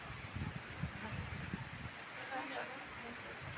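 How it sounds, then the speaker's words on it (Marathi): Steady rain hisses in the background with gusty wind, while people talk over it. "वारं फिरतंय बघ हे का वाऱ्यामुळं फिरतोय पाऊस"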